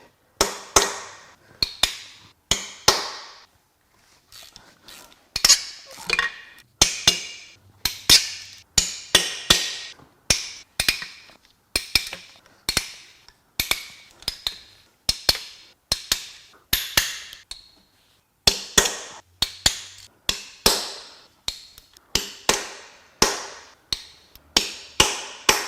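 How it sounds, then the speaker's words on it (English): Sharp hammer taps ring out in quick clusters with short pauses across the teardown of a salty, corroded 200,000-mile Subaru Outback EZ30R 3.0 H6 engine, close and crisp, with no talking. "Let's get a hammer to tap these in."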